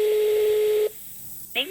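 A telephone call dialed abroad that fails to connect: a steady tone sounds for nearly a second, then a pause and a brief higher electronic beep, with no voices.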